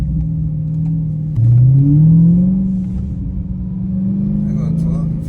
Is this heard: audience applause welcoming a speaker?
no